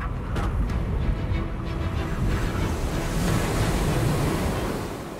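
Stormy North Sea waves crash and surge in a continuous loud roar with gusting wind, heavy and close throughout, with no voices.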